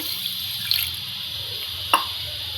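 Water is poured into a pot of sugar to make syrup for sweet boondi, a steady close hiss of liquid with two brief splashy knocks, no voices.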